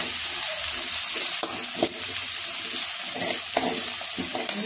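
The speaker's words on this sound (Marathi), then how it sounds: "छान असं आपण हे परतून घ्यायचं." Mint bhadang chivda mixture with turmeric being sautéed in a pan gives a continuous dry sizzle, punctuated by repeated scraping and clinking as a spoon tosses it. No one speaks.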